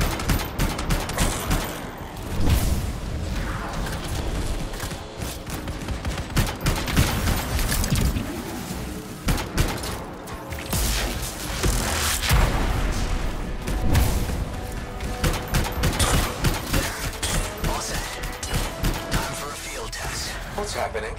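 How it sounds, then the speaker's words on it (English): Explosions from a sprung trap and rapid bursts of gunfire in the Anthem video game, a mix of booms, clanking mechanisms and volleys of shots, with voices talking over the combat throughout. "It'll be a contained explosion."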